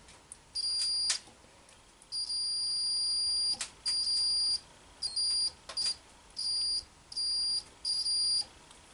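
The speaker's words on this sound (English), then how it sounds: "there should be a beeping sound, because they're hooked up together" A shrill electronic beep from a continuity tester checking Delco alternator wiring sounds repeatedly in short bursts of uneven length, with faint clicks and tapping between them.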